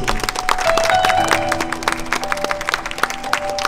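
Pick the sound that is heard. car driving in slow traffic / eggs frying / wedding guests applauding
wedding guests applauding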